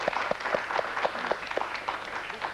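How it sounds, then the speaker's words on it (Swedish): Light applause from a small studio audience at a 1992 Swedish TV quiz show, sparse, evenly spaced claps at moderate volume that last a couple of seconds. "Applåd."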